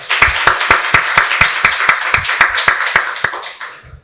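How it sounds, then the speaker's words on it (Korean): Rhythmic, unison clapping from a church congregation during Sunday worship, sharp evenly spaced claps at a brisk steady beat, loud and close, stopping abruptly near the end. "박수로 하나님께 영광 돌리겠습니다."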